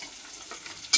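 Onion and garlic sizzle in hot oil as dried fish is about to go in, a soft close frying hiss ending in a sudden sharp scrape of stirring.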